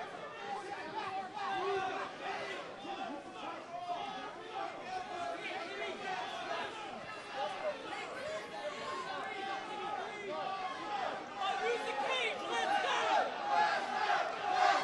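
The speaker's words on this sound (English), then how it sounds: "And you hear the crowd chanting, Lester, Lester." A large crowd at a boxing match chants a fighter's name together near the end of round one, a dense rhythmic roar of many voices that swells slightly toward the end.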